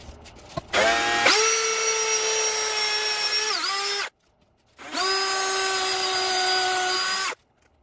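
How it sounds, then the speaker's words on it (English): A power drill whines as it drives screws into the ends of a DIY fire pit table, two long, loud, steady runs separated by a short pause. "Next up is I am going to secure the ends with screws."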